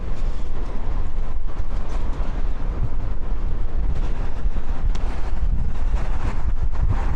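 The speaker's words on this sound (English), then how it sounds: "the wind really funnels down these passages" Strong storm wind during Storm Pia in Blackpool, funnelling through narrow passages, roaring and buffeting the microphone continuously with heavy low rumble throughout, loud and close.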